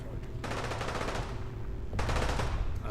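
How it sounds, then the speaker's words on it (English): In Fallout 4, two rapid bursts of automatic gunfire sound at moderate distance, one long volley followed by a shorter one, over a low background hum. "I hear gunfire."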